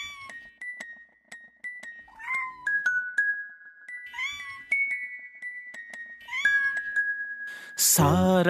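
A cat meows several times over a bright, tinkling children's rhyme melody. The meows are mid-loud and rise and fall between the musical notes, with one louder, harsher yowl near the end.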